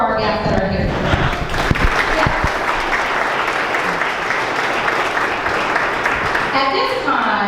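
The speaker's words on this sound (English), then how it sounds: "Let's clap it up for our guests that are here tonight." Guests at a fundraising dinner applaud in a sustained, even wave of clapping filling the hall, loud and continuous for the whole stretch with some cheering and crowd voices underneath.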